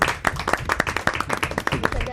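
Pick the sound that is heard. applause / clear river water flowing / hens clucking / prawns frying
applause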